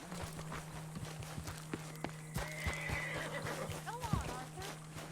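In the video game Red Dead Redemption 2, a horse gives a whinnying neigh over the plodding clip-clop of hooves, with faint voices and ambient outdoor game sounds around it.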